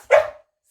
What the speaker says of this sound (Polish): Ona tak długo nie umiała szczekać.